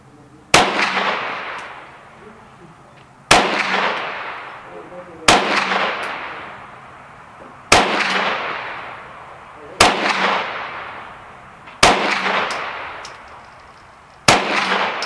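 Seven sharp, loud gunshots crack at a shooting range, spaced about two seconds apart, each leaving a long booming echo that fades before the next shot.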